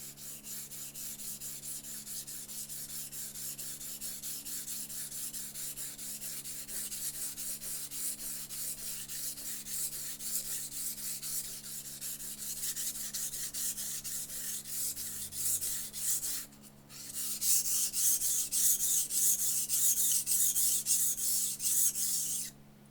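Wusthof kitchen knife scraped across a whetstone in a steady, continuous rasp of repeated strokes, close and moderately loud, with a brief pause before the grinding resumes.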